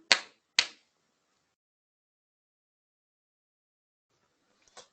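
Hand claps in a Turkish children's song: two crisp, close claps in quick succession, then silence before a faint third clap at the very end.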